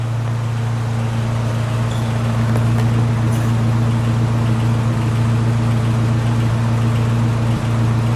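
A 1936 Packard Super 8 straight-eight engine idles steadily and close by, a smooth constant low hum with no voices and no revving.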